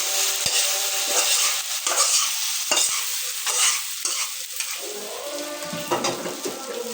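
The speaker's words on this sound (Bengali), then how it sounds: "আম্মু পেঁয়াজ ভাজছে, এগুলো দিয়ে দিচ্ছে খিচুড়ির মধ্যে" Sliced onions fry in hot oil with nigella seeds and fried dried chillies while being stirred for khichuri, giving a steady close sizzle broken by repeated scraping and clinking strokes of a spatula against the pot.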